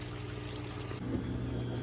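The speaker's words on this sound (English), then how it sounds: "So I'm just basically just flooding the whole reservoir." Water is poured to flood a seedling tray reservoir, a steady close pouring and splashing rush that runs through the whole short moment without talk.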